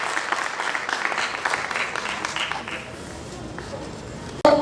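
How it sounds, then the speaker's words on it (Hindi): An open mic poetry audience applauds a performer with lively clapping that fades over a few seconds, followed by a sharp knock near the end. "एक बार जोरदार तालियां हो जाए शेरी के लिए"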